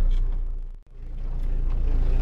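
Toyota AE86 Trueno engine and small exhaust droning loudly while driving, a steady low rumble with a brief dip as the throttle lifts, then building again, heard from inside the car.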